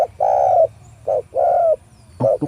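Repeated soft, hollow spotted dove coos in a rhythmic pattern of short and longer notes, fairly close, with faint background noise between calls.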